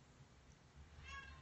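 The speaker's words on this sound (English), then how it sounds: "yes, that is a cat meowing." A pet cat named Button meows once, faint and short, at home over a low background hum.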